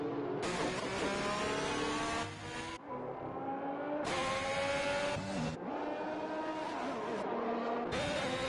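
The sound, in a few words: F1 2021 video game race cars driving behind safety car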